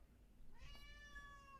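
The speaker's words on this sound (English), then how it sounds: "if Snickers starts meowing and you meow back, she will just continue meowing" A pet cat gives one faint, drawn-out meow with a rising then gently falling pitch, alone in a quiet indoor room.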